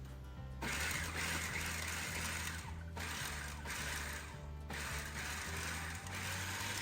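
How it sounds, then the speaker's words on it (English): Onion and garlic are chopped in a food processor with repeated mechanical bursts, each a rhythmic whirring churn lasting a second or two between brief pauses. The sound is close and steady, with no voices. "I'm going to use the food processor"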